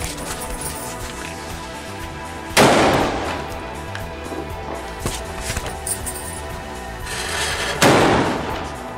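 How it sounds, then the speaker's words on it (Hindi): Bullet bomb firecrackers going off at Diwali, two sharp loud bangs several seconds apart, each with a crackling tail, over a background of scattered distant pops and faint crackle. "अब नेक्स्ट टाइम ट्राई करने वाले दो टाइप के बुलेट बम, एक में से अनार निकलेगा और नॉर्मल एक फटेगा"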